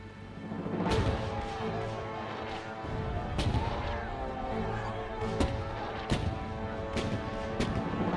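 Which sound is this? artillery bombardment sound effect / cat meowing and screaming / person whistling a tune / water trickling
artillery bombardment sound effect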